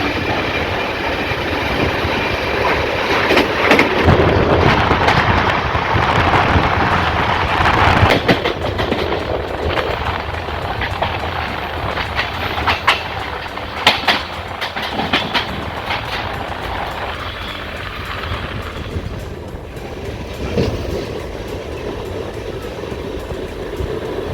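The South Bihar Express runs on rails between Champa and Rourkela, a continuous loud rumble with rhythmic clickety-clack from inside the coach as it passes a station.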